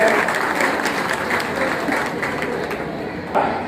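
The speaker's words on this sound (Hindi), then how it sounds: "तो कृपया करके इस बार जोरदार ताली बजाएं" Enthusiastic applause from a community gathering at a Vaishya samaj festival in Gondia: loud, dense clapping from many people that holds steady, then tapers slightly near the end with a final sharp clap.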